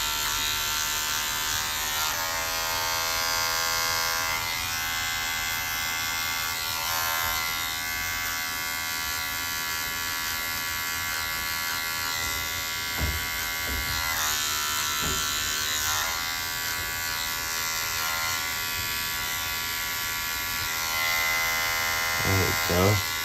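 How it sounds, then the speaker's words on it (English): Electric hair clippers buzzing steadily while cutting a fade, the tone shifting as the blade digs in and pulls through hair, with a voice talking now and then over the hum. "I had to really dig this clipper in there to try to get that hair shorter"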